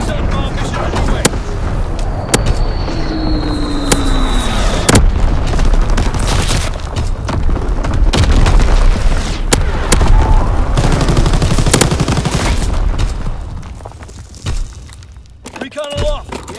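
Artillery strike explosions in the Call of Duty video game: a dense barrage of booms and gunfire-like blasts rumbling continuously and loudly for most of the stretch, thinning toward the end, with game voice chatter mixed in.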